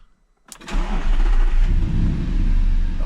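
Audi R8 R-Tronic sports car engine starting after a brief silence, then a loud, close, steady rumbling rev that stays strong to the end.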